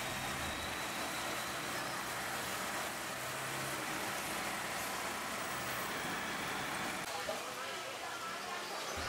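A Bajaj auto rickshaw with a 150 cc engine sits in Jakarta street traffic, where a continuous drone of engines fills the scene while a voice speaks steadily over it.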